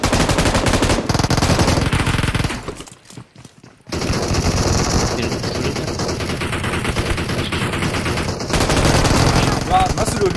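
Rapid automatic gunfire from the mobile battle-royale game PUBG Mobile rattles in long, loud bursts, pauses briefly near the middle, then resumes steadily, with players talking over it.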